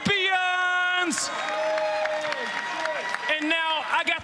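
Arena crowd at the Challengers Boston Breach Major grand final applauds and cheers the champions FaZe Black, a steady roar of clapping under a loud announcer's voice.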